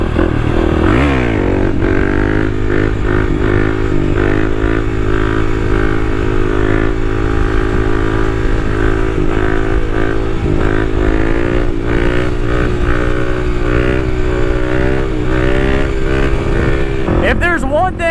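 A Kawasaki KLX300 dual sport motorcycle revs hard and continuously during wheelies, its engine loud and close with rising and falling pitch and wind rush throughout.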